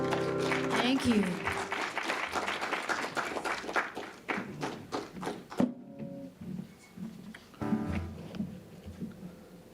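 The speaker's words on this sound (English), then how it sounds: "Thank you, everybody, for clapping along." An audience claps along in a steady rhythmic beat, loud and close. The clapping breaks off abruptly, then scattered applause returns with a voice speaking over it.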